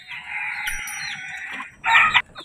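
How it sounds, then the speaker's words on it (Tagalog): A seven-month-old Kelso rooster crows nearby, one long drawn-out call followed by a short loud burst, with quiet farmyard background. "Malaki kasing manok to eh. Magandang manok to ito."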